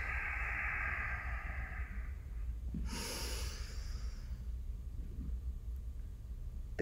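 A slow breath drawn in and let out through the nose during a Kundalini breathing exercise, with a long steady exhale and a sharp sniffing inhale, close and alone over a constant background hiss.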